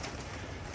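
Young racing pigeons are let out at a loft on a hot afternoon, a brief, close burst of soft cooing and fluttering over a dense, noisy background.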